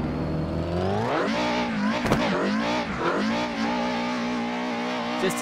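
A BMW M4 drifting in a racing video game, its engine revving hard and climbing in pitch, then holding high with wavering rises and dips, loud and close, with a brief tire squeal.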